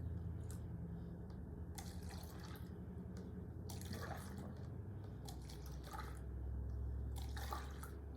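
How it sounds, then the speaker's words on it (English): Liquid starch mixture poured back and forth between cups for a color-change science demo, soft splashing pours in quiet bursts close by. "Now you'll pour liquid B into C and go back and forth a couple of times."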